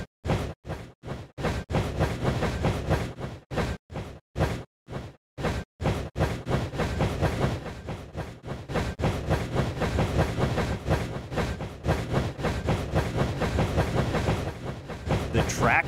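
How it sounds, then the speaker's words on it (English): An animated train racing in the Dinosaur Train Rail Rally video game, a loud, continuous rhythmic rumble and clatter that starts as choppy pulses then runs steadily, with background music and game sounds. "Press the space bar to power your train."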